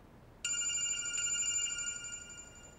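A telephone in a TV drama scene starts ringing suddenly with a bright, electronic trill that pulses steadily for a couple of seconds, then fades slightly, over a quiet room.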